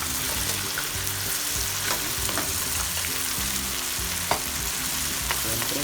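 Fresh crab dropped into a pan of cooked tomato keeps up a steady, close sizzle and crackle of frying, with occasional stirring clinks and scrapes and no talking.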